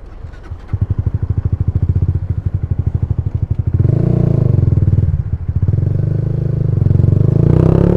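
Motorcycle with a remapped ECU and a slim slip-on muffler, test ridden: a loud, close, rapid engine putter that rises into a fuller, sustained revving drone, dips briefly, then climbs again, with no voices.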